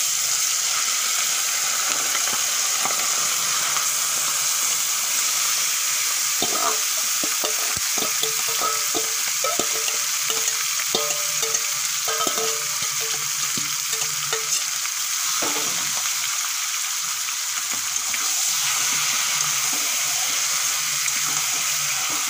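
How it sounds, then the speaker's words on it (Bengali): Spice-marinated duck meat frying in oil with whole spices and bay leaves, a loud continuous hissing sizzle with intermittent stirring clatter through the middle, no talking. "এখন মশলা মাখা মাংসগুলো দিয়ে দেব।"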